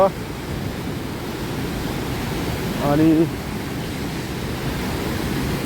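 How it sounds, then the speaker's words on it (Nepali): Rushing water from a mountain stream and waterfall near a hydropower site, a broad steady roar close to the microphone with wind buffeting, and someone briefly speaking partway through. "यहाँ पानी छ, खोला झरना हो"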